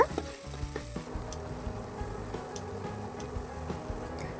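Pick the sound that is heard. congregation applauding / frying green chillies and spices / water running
frying green chillies and spices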